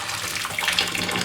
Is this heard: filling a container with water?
yes